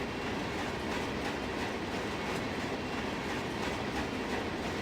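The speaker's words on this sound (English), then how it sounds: "I missed that Amtrak." Amtrak passenger train rolling past in the Run8 train simulator, a steady, loud rumble with continuous rail clatter and wheel noise filling the whole stretch, no voices.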